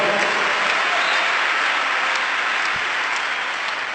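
A congregation claps together during a church healing testimony, a dense, steady wash of applause that holds at an even level throughout, loud and close, with no talking over it.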